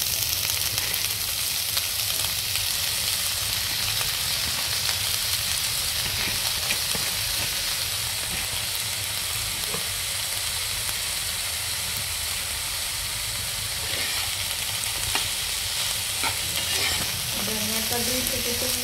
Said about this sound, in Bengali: ধনিয়াটা 2 থেকে 3 মিনিট জাল করে নেব, ভেজে নেব সিদ্ধ হয়ে যাওয়া পর্যন্ত